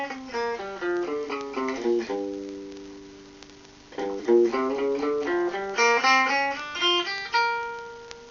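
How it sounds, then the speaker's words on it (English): A six-string guitar in standard tuning plays a blues scale in G as clean single notes, climbing and descending, with a sustained ringing pause midway before the run resumes. "Okay, so it's a 6-string guitar"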